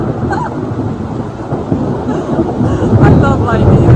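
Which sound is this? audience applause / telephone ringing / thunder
thunder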